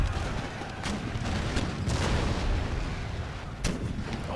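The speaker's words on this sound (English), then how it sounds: "some wonderful shots going off here" Cannon artillery fires in an Empire Total War battle, with repeated booming shots over a dense, continuous roar of battlefield noise, without pause.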